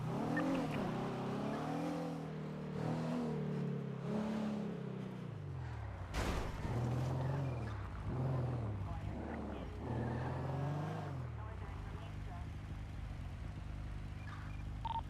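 A nearby car engine that keeps stalling sputters and revs unevenly, surging and sagging several times before settling into a low, rough idle.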